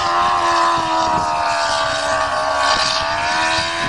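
A motorcycle-powered dune buggy engine drives through snow, a loud steady droning roar held near at high revs with constant harmonic whine and no talk.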